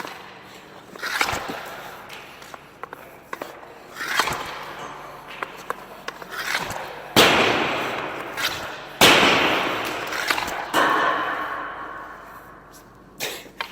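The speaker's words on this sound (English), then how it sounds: "do some wristers with the Geo here" Hockey wrist shots taken with a 70 flex Geo stick: a series of sharp cracks and slaps spaced a second or two apart, each followed by a brief rushing scrape, close and loud, with no talk.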